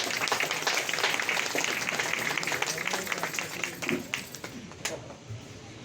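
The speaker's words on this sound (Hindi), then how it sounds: "ये दर्शक लोग की तालियां शांत हो रही हैं।" Spectators applaud at a police training passing out parade in Moradabad, a dense wash of clapping that thins out and fades toward the end, with a voice faintly present underneath.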